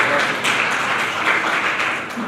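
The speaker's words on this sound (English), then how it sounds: "Let's give him a big round of applause here." A crowd at a Hindu organizational conference applauds, steady clapping filling the short moment at a moderate, even level.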